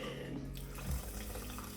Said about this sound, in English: you just put in a couple of cups of water.